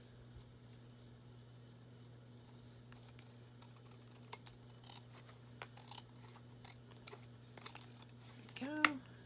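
Scissors trimming a handmade paper tag, a series of quiet, irregular snips and small paper crinkles spread across several seconds, close by, with a brief louder rustle near the end and no talk.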